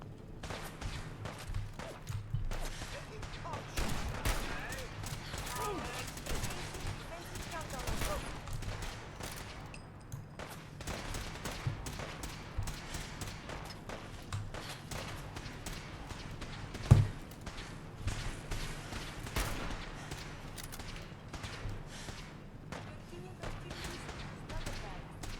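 Gunshots in modded Fallout 4 (Fallout Equestria) come as scattered bursts of shots, some rapid and some single, at moderate loudness through a long stretch, with occasional quiet speech.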